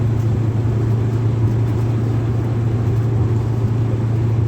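A 1953 Ford F100 hot rod truck driving through its gears, a steady, loud low engine drone inside the cab with no clear rise or fall in pitch.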